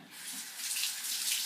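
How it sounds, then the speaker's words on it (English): Tap water runs steadily into a sink while hands are washed, a continuous hiss close by with no talking. "let me wash my hands."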